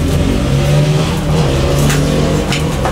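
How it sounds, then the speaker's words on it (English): Engines rev and pass by outside, a steady loud vehicle drone with rising and falling revs, heard alone for about three seconds. "there goes the motorcycle gang"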